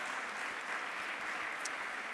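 Dense, even applause from an audience at a cooperative economy conference session, a continuous wash of clapping held at a steady moderate level throughout.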